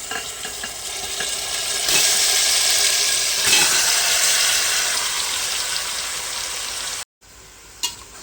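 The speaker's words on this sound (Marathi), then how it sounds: "आता आहे ना आपण ह्यामध्ये मॅरिनेट केलेलं चिकन टाकूया." Marinated chicken going into a hot pot for biryani, with a loud, dense sizzle that surges as the pieces land and then hisses steadily, plus a faint clink near the end.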